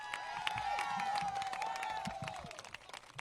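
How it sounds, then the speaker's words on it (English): Crowd at a union rally in San Antonio, Texas, breaks into applause and cheering, with a sustained whistle or whoop riding above dense clapping and scattered shouts, fairly close and loud throughout. "Let's give him a round of applause."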